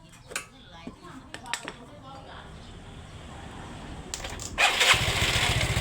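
A Yamaha Fino scooter engine under repair idles roughly, then is revved up and rises to a loud, sustained roar near the end, with someone talking over it.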